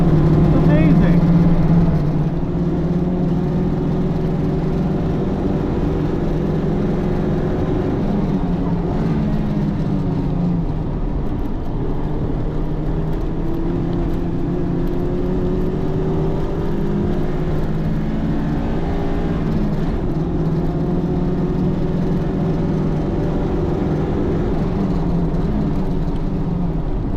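A Toyota MR-2 Spyder driving on a track, its engine a steady droning hum heard from inside the cabin with pitch sweeping slowly up and down, sustained and loud throughout.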